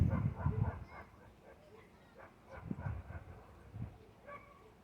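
A dog begging for cheese gives soft, repeated whimpers and small yips in uneven bursts, fairly quiet and close, with low background noise between the cries.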